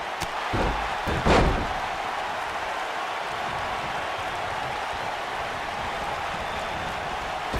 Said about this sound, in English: What a stomp.